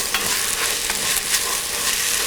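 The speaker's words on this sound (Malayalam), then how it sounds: "പച്ചമുളക്, 2 തണ്ട് കറിവേപ്പില എന്നിവയിട്ട് വഴറ്റുക" Green chilies and two sprigs of curry leaves sauté in a pan of softened onions for mutton stew, giving a loud, steady sizzle with light stirring taps and no talking.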